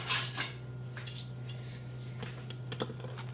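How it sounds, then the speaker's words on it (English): Knife cutting through hot gluten-free vegan quinoa flatbread: a series of light, crisp taps and scrapes against a board, close and quiet over a low steady hum. "And I'm just going to cut it now that it's hot."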